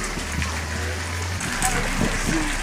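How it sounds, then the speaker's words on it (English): Steady rain falls outdoors at Lake Underhill, a continuous broadband hiss of drops on water and surfaces, with a low hum and faint voices underneath. "Well, it's raining."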